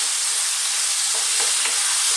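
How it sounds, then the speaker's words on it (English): Turmeric, chili, coriander and cumin powders frying with tomatoes in a pan, a loud, dense, continuous sizzle close up with a few soft stirring clicks. "we're going to go in with our powders, which is the equal parts, about a teaspoon each, of turmeric, chili powder, coriander powder and cumin powder"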